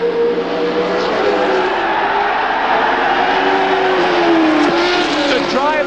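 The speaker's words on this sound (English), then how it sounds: "Down through the gears goes Regazzoni into third, 125 miles an hour, and listen!" 1979 Formula 1 race cars at the German Grand Prix downshifting on the approach to the stadium section, a loud continuous engine howl with falling and rising pitch sweeps, crowd noise mixed in, no talk.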